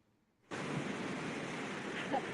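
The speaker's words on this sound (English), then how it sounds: "The waves were crashing so loud." A broad, steady roar of surf starts abruptly after a brief quiet moment and continues at an even level, resembling ocean waves crashing heard outdoors, with no clear speech.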